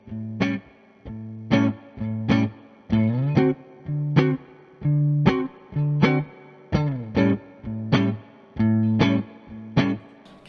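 An electric guitar rhythm loop with distortion and chorus effects repeats short, punchy strummed chords in an even, steady pattern, near and clear, with no voices.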